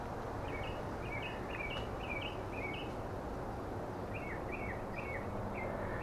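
Wild bird calling outdoors, short repeated chirping notes in two bursts over a constant broadband background hiss, moderately distant and fairly quiet.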